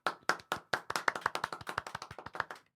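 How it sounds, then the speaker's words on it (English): Clapping in a podcast studio from a small group of people, the claps sharp and close, landing in a quick, uneven rhythm and slightly out of step with each other. "Let's give him a hand of applause."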